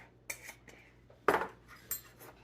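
A metal spoon stirs ground pepper and other seasoning in a bowl, giving a few quiet, separate clinks and scrapes with short pauses between them.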